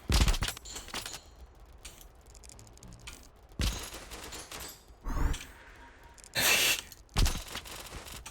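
Party ball explosions pop off the tip of an arrow in an archery video game prototype, several sharp, loud bursts spaced a second or two apart over a low background hum.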